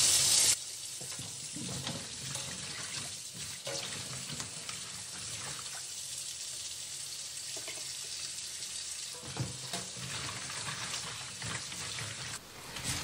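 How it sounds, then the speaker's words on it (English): Water runs steadily from a kitchen faucet into a freshly scrubbed sink while celery is washed, a constant hissing splash with occasional shifts from handling, close and moderately loud throughout, without talk. "I scrubbed out my sink this morning, and we're going to use this to wash our celery."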